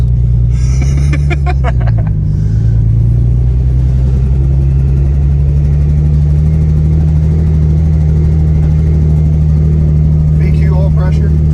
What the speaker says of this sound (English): Trying to turn the volume down on the exhaust.